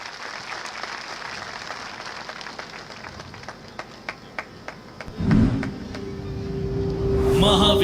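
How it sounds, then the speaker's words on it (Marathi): A crowd at a Maharashtra election rally claps for a manifesto release: scattered, rhythmic claps grow into louder, sustained applause near the end. "सर्वांनी प्रचंड टाळ्या वाजवून या जाहीरनाम्याचं स्वागत करावं."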